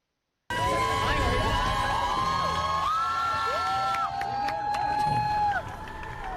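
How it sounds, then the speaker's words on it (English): Outdoor crowd cheering, whooping and shouting as a Louisiana pastor walks out of jail, loud and continuous with high shrill voices and whistles over a dense roar of people, with some voices in the mix. "that crowd is cheering for a Louisiana pastor the moment that he got out of jail there"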